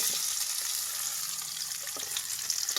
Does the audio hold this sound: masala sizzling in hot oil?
yes